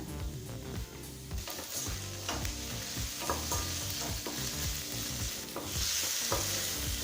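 Half a tomato sautés with onion and green chili in a pan for cabbage chutney, a continuous sizzle punctuated by repeated spoon-stirring knocks and scrapes against the pan.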